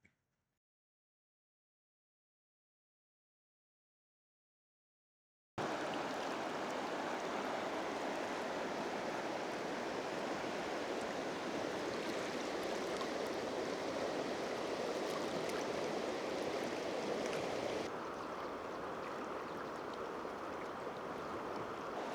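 The Salmon River in central Idaho runs with a broad, steady rushing roar that comes in abruptly after several seconds of silence and carries on unbroken, easing slightly softer toward the end.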